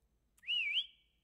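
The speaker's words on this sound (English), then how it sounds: "That's my whistle." A single clear whistle from a character in the Lazaret video game, a short rising-and-falling tone that ends in a held note, alone against near silence.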